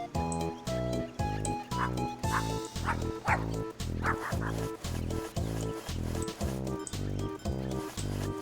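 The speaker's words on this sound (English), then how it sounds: "Are those dog noises inside or outside the game?" Dog barks and yips sound as rhythmic, rapid repeated bursts, loud and regular like a looping game sound effect, with a few higher whimpering yelps mixed in.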